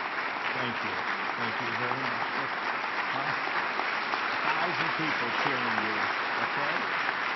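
About a thousand people at a state speech keep clapping and cheering loudly, an even roar of applause with someone talking over it at points.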